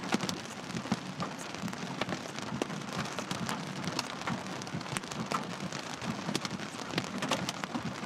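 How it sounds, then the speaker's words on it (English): Hailstones the size of black-eyed peas fall during a Colorado storm, making dense, irregular pattering and sharp ticks that clatter steadily on nearby surfaces without pause, with no one talking. "Those are black-eyed pea size hailstones."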